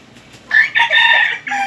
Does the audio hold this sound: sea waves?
no